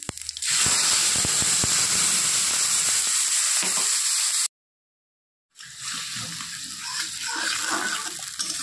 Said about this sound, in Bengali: বেটে রাখা মশলাটা দিয়ে দিলাম।